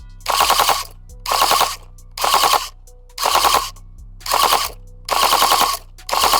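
Tokyo Marui MK46 MOD.0 airsoft light machine gun with recoil shock firing full auto in seven rapid, loud, close bursts, each about half a second long with short pauses between.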